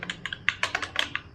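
Quick keystrokes on a computer keyboard while entering a username and password in Tally Prime accounting software, about ten clicky taps in an uneven burst, close and clear with no talking.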